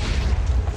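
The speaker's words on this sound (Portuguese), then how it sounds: "Nossa, toma explosão da TNT." A TNT block detonates in a video game, a loud, sustained low boom rumbling steadily through the whole short moment with no voices over it.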